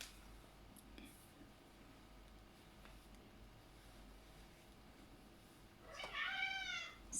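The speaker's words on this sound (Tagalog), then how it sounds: "yung aking alaga nagnyaw-nyaw na" A pet cat lets out a short, clear meow near the end after a quiet stretch of faint room noise and small clicks.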